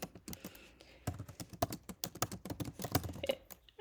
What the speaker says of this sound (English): I'm going to type in here again.